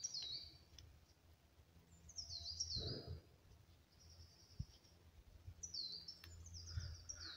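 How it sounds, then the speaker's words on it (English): A coal tit calls from directly overhead in spring woodland, thin high phrases repeated a few times with gaps, faint and clear over quiet ambience and a couple of soft thumps. "The bird that's calling is a coal tit, one that's calling directly above anyway."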